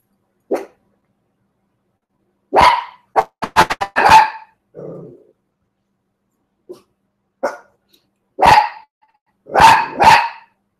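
A small but strong dog barks in sharp, loud, separate bursts, single yips and quick clusters of barks spaced by silences, close by and alone.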